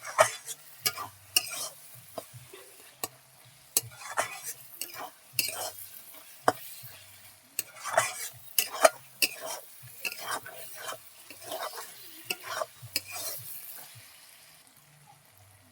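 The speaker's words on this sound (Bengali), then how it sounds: "চিকেনটাকে আমি একদম পুরো ভাজা ভাজা করে নেব।" Chicken stir-fried in a pan as momo filling, with repeated scraping and stirring strokes of a spatula over a soft sizzle, irregular and close, with no talk.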